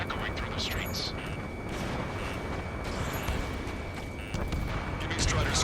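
Gunfire and roaring jet engines fill a city under martial law in the Ace Combat 7 flight game, a steady dense rumble with scattered sharper cracks throughout.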